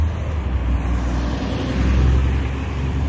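Steady rumble of traffic heard from inside a city bus on its straight run downtown, a continuous loud low drone with no voices.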